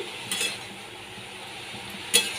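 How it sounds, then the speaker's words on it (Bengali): Shrimp being stirred with salt and turmeric in a pan, a soft continuous sizzle broken by two brief scraping clinks of a utensil against metal, close up and with no voices. "এর মধ্যে আমি নুন হলুদ দিয়ে দিলাম ভালো করে আমি মিশিয়ে নিচ্ছি"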